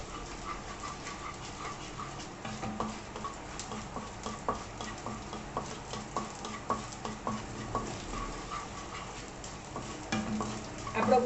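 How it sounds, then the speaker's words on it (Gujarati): Edible gum frying in hot ghee over a high gas flame, a soft, steady sizzle with rhythmic stirring scrapes and taps, fairly quiet and close, no talking. "ગુંદર તળવા ટાઈમે આપણે ગેસની ફ્લેમ ફાસ્ટ રાખવાની."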